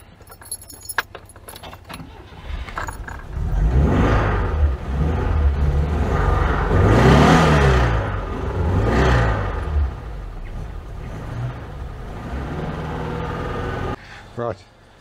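An Oltcit car engine running close by, its rumble swelling into several revs and easing off over a long stretch, with keys jangling near the start and end and people talking around it.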